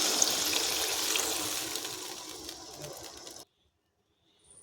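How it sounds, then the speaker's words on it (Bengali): Water is poured into a pan of katla fish curry with potol and potatoes, giving a steady hissing splash that fades out and then stops into silence. "খুব বেশি জল দেবো না সামান্য পরিমাণে জল দেবো"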